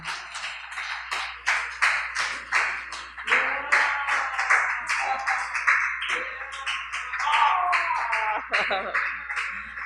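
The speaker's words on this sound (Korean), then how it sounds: "선물 받을 때 박수 쳐줘요." Children at a church school service clap for a classmate receiving a gift, a sparse, irregular patter of nearby hand claps mixed with chatter and voices throughout.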